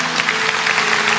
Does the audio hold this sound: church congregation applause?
yes